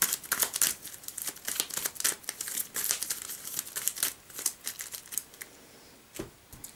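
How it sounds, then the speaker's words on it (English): Print-and-play cards for the board game A Night at Deepwail Manor being shuffled, a run of quick papery riffles and crinkly flicks, close and fairly loud, with no voices. "Let's put that back in and then give them a shuffle."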